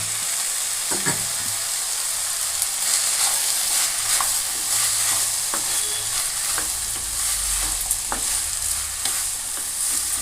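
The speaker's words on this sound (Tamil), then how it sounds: "ஒரு ரெண்டு நிமிஷம் நல்லா வதக்கிங்க தேவையான அளவு உப்பு போட்டுக்குங்க" Ridge gourd masala sautéing in a pan, with a steady close sizzle and frying hiss broken by intermittent scrapes and clinks of stirring, no voices.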